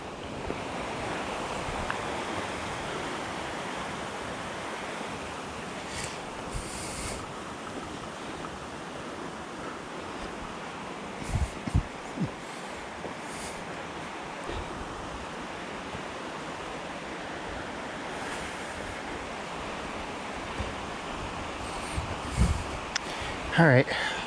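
A river flowing beside a forest trail leading to Tamanawas Falls, a steady broad rushing wash heard throughout with wind buffeting the microphone and occasional footsteps and handling bumps.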